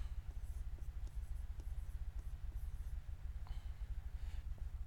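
Writing on a board while explaining unit step functions: a fast, steady run of soft rhythmic scratching strokes with a low rumble underneath and no talk.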